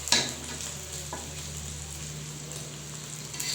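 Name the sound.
egg with potato frying in a pan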